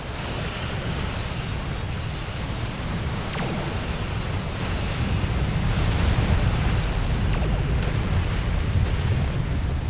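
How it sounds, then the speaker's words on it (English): A warp core breach explosion in the Star Trek Online space game, heard as a continuous dense roaring rumble that swells slightly midway and holds steady for the whole stretch without speech. "Nothing like flying through a warp core breach."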